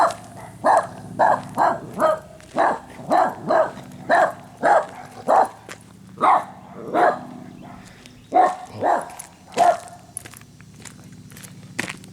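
A puppy on a hiking trail near Otter Point barks repeatedly in short, evenly spaced yaps, close and fairly loud, with a few brief pauses between bursts.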